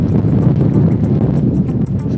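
Strong wind at Jomsom Airport in Nepal's Himalayas buffets the microphone in a loud, continuous roar with low rumbling gusts and no clear voices.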